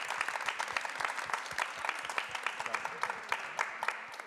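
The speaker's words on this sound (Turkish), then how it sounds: "Hocam alkış hak ettim." Lively applause on the set of the Turkish TV show Kısmetse Olur, with close, sharp individual claps in a quick irregular rhythm over a bright, continuous clapping bed.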